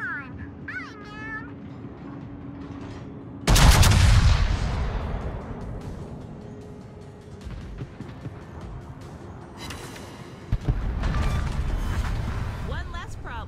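Naval gunfire in a game scene: a sudden loud boom cracks out, its rumble trailing away over several seconds, and a second heavy blast follows later, with mechanical chirps and tones scattered around it.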